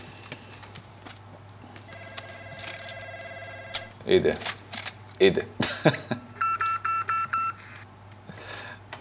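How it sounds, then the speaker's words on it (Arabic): A telephone rings in a free-to-play battle royale shooter, heard as a series of bright, repeated electronic ring and beep tones that grow louder and denser toward the end, amid game noise and a brief spoken voice. "التليفون ده معناه ايه بالظبط؟"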